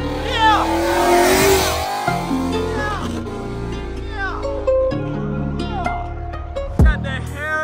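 Ford Mustang GT350 pulling out of a car meet, its engine revving hard and rising through gears with a loud exhaust note, amid crowd voices and shouting nearby.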